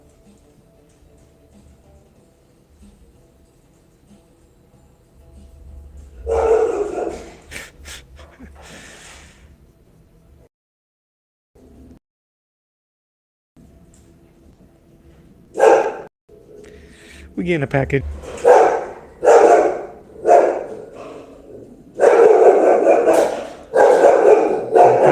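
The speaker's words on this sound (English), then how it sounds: "Dog don't like it." A dog barks indoors in several sharp, loud bursts, most of them clustered toward the end, with a person talking nearby in between.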